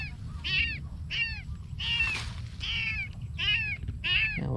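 A small abandoned kitten meows repeatedly, about six high, wavering cries spaced evenly, close and fairly loud over a steady low outdoor rumble, with no talking.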